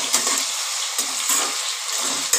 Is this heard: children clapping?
no